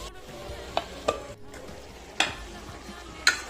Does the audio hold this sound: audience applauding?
no